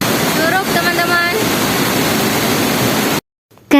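Loud, steady roar of a waterfall heard up close at a jungle fishing spot, with faint voices or birds over it before it cuts to near silence.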